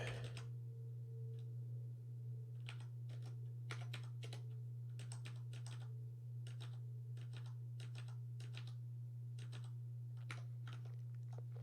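Irregular bursts of keystrokes clatter on a computer keyboard, fairly close, over a low constant electrical hum.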